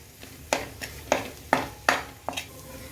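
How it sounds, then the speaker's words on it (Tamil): A spatula stirs paneer bhurji in a pan, five or six distinct scraping strokes in an uneven rhythm over a soft background sizzle, close and clear with no voices. "தேவையான அளவு உப்பு போட்டுட்டு அழகாக கிண்டி விடணும்"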